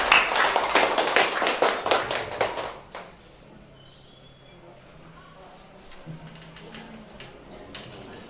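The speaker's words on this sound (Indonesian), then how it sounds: "Tepuk tangan Bapak dan Ibu" A crowd claps rapidly for a few seconds, then the applause fades into quiet room noise with faint scattered sounds.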